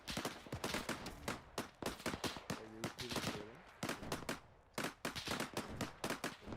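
Rapid bursts of automatic gunfire in Arma 3, dense and loud, with overlapping volleys and short pauses throughout, and faint voice traffic underneath.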